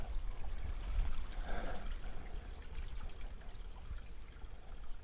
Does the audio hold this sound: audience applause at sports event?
no